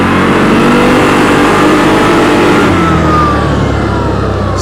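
A CFMoto CForce 1000 Overland ATV accelerating hard in sport mode, its engine roaring loud and close with a steady rising drone, easing slightly toward the end.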